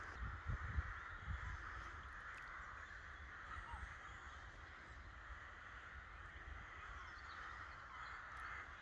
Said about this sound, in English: with that lovely backdrop of crows squawking